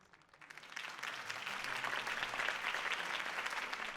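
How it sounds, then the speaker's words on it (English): Applause from a crowd in a video game, Batman: The Telltale Series, swells in quickly after a brief quiet moment, then holds as a steady wash of clapping. "could have heard that applause"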